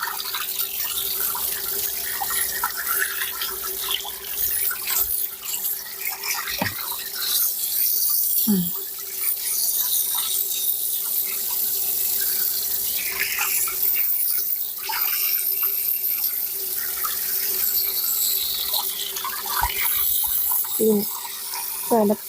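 Tap water runs and splashes over black chicken pieces being washed in a sink, with steady trickling broken by occasional clatters while someone talks.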